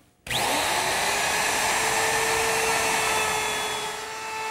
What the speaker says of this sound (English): The first step in treating the edges of the top is to round the top corner with a 1/2 inch radius bit.